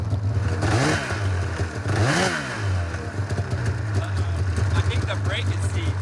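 Frozen vehicle engine revving during a cold start in a blizzard with a seized brake, rising in two loud swells over a steady rough idle, with clatter and wind noise throughout.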